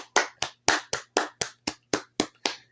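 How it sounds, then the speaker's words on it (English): Ten sharp, evenly spaced hand claps ring out close and alone, a steady congratulatory clap with brief silences between each slap. "We got to give him a the congratulations clap."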